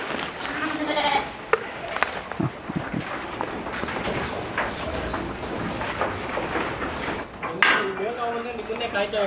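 Farm sheep bleat several times at intervals amid background clatter and livestock noise, with people talking nearby.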